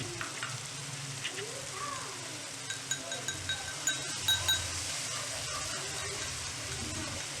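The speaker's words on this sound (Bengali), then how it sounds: "জিনিসটাকে আবারও কিছুক্ষণ কষে নিতে হবে একটু চিনি অ্যাড করলাম" Katla fish curry masala with added sugar frying in a pan, a steady close sizzle with scattered utensil clinks and scraping, continuing alone throughout.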